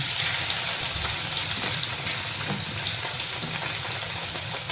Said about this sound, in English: And we'll drop it in the oil.